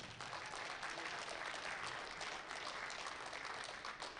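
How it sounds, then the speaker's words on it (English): An audience at a powerlifting national championship applauds a medal winner with dense, continuous clapping, faint and far off, holding steady throughout. "Give him another round of applause."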